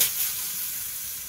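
Pumpkin pieces sizzle in a frying pan over a thin drizzle of olive oil, making a steady, bright hiss that holds from start to finish, close and loud without any voices over it.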